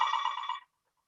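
A phone rings briefly during an online meeting, a short burst of bright, steady electronic tones that cuts off after about half a second, leaving silence.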